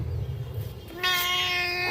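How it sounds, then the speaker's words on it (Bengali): A close, loud cat meow, one drawn-out call rising out of soft background hiss about halfway through and holding strong to the end. "ও সব বিড়াল ম্যাও বলে"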